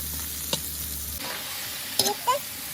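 Onions sizzle steadily in a hot pan while being fried for kuyrdak, a continuous close frying hiss with a couple of light utensil clinks near the end and no talking.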